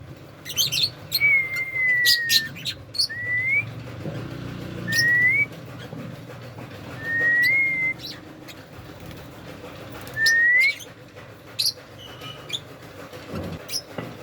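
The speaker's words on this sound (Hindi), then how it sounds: "सीटी मार।" A pet ringneck parrot gives a string of clear, rising whistles, five or six short phrases spaced a few seconds apart, close and loud over quiet room noise with faint chirps.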